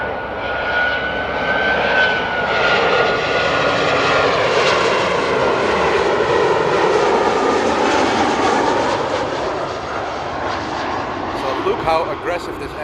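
An Eastern Airways airliner, mostly white with colored trim, lands at Amsterdam airport, its steady engine roar loud and close for the whole stretch while someone talks over it.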